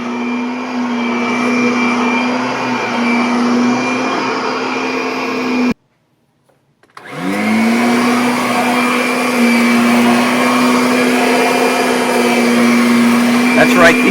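A Kirby Sentria II upright vacuum cleaner runs with a loud, steady high whine, cuts off briefly, then spins back up and holds its drone, with a person talking faintly over it.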